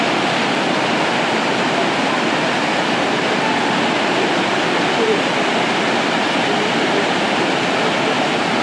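Elephant Falls in Meghalaya, India, roars steadily and loudly close by, a dense unbroken rush of falling water with no pauses.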